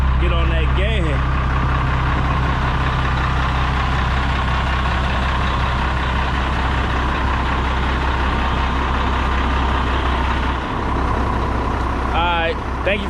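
A dump truck's diesel engine idles close by with a steady low rumble that holds for the whole clip, with brief squeaks near the start and end.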